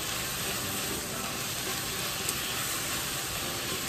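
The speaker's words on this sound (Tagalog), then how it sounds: "Siguro igisa natin siya ng 3 minutes." Chicken sautéing in a pan with sliced onion, a steady even sizzle and hiss throughout, fairly loud and close with no talking.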